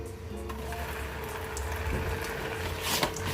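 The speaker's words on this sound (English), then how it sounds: "I'm gonna get some water into this" Water poured from a container into a cooking pot full of chicken meat for Jamaican fricassee, a steady rushing splash close by that swells slightly toward the end, with no talking.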